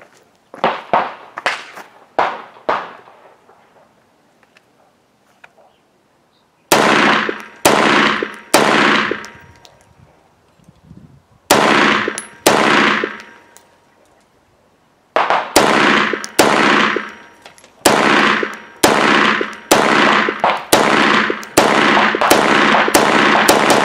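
Rifle fitted with an NG2 Defense AFD muzzle brake firing outdoors, sharp loud shots in quick strings of three to five, separated by pauses, each with a brief ringing tail.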